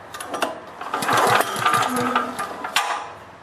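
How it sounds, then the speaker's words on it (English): A small generator engine with its spark plug removed is cranked over, giving a series of loud, uneven mechanical churning bursts with clattering pulls and no firing, heard up close. "now pull the engine over"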